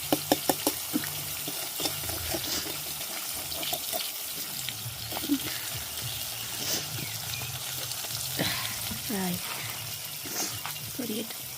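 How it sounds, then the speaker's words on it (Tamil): Beaten egg with a little salt frying in a pan, giving a soft steady sizzle with some scraping and clattering, while voices talk quietly in the background. "பொரியட்டும்."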